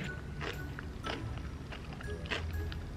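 Crunchy bites into a pretzel-filled Reese's peanut butter chocolate candy, a few crisp crunches at close range over a low background rumble.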